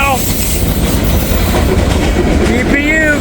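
Freight train with a distributed power unit locomotive rolling past, loud and close, with continuous rumbling wheel clatter and high metallic squeals from the wheels, a voice faintly heard under the noise.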